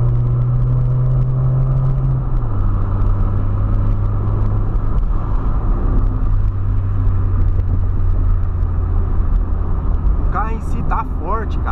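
Close, loud engine of a Polo with a reworked cylinder head and iridium spark plugs: a steady rumble that dips in pitch early on, then holds even with no clear rev peaks.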